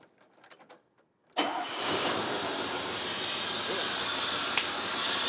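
A restored 1971 Mercedes-Benz 280SE fires up after brief soft cranking, catching abruptly and settling into a loud, steady idle; voices are heard briefly before it starts.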